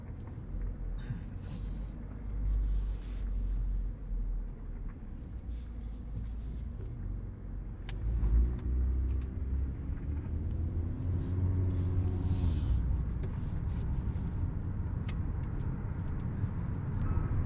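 A 2020 Toyota TRD Camry with an 8-speed automatic, in sport mode, drives on the road as a steady low engine and road rumble, with a rising, shifting engine tone midway, heard from inside the cabin.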